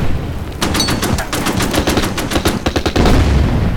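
Machine gun fire from an SS Heavy Weapons team attack in the World War II strategy game Order of Battle: Panzerkrieg, a loud, sustained run of rapid bursts with dense overlapping shots that keeps going to the end.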